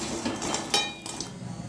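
Goja, fried dough sweets, are stirred in a pan, giving a few light metallic clinks and scrapes over a soft background hiss.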